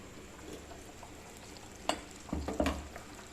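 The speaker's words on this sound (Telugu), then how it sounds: "ఇందులో అల్లం వెల్లిగడ్డ పేస్ట్ వేస్తాను, చికెన్ వేసాను, ఉడుకుతుంది" Chicken with ginger garlic paste sizzles faintly in a pan, a low steady fry broken by a few louder stirring scrapes near the end.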